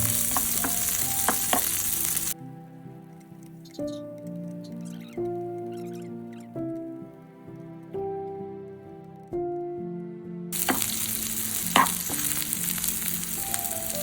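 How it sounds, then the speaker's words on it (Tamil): Bitter gourd fries in a pan with a dense, close sizzle and light stirring clatter at the start and end, while a stretch of plucked melodic music replaces the cooking sound in the middle. "நல்லா கொஞ்சம் வதக்குங்க. ஒரு 3 நிமிஷம் வதக்குங்க."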